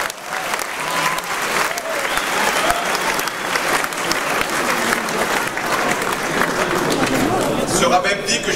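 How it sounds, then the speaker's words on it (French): A large audience at a formal speech event breaks into sustained applause, a dense wash of many hands clapping at full volume for the whole stretch, with no pause or fade. "Vous pouvez l'applaudir."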